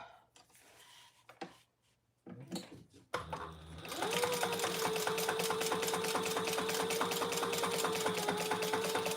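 A sewing machine stitches the inside pocket of a trifold wallet. Brief handling and clicks come first, then a steady, close, rapid mechanical whirr runs for several seconds.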